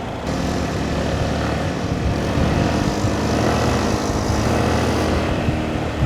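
A recently repaired motorcycle cruising near Lambingan in Tanay, Rizal, giving a loud, steady engine drone with wind rush that holds without a break and with no talking.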